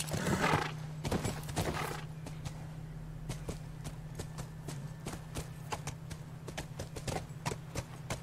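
A horse in The Last of Us on PS4 whinnies loudly at the start, then its hooves clip-clop in a steady walking rhythm, close and clear, with no one talking.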